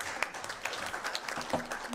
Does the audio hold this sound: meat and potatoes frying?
no